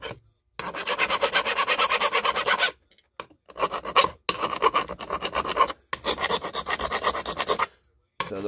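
A hand file rasps back and forth over wire to strip its coating during a crystal radio build, making loud close scraping strokes in several bursts separated by short pauses.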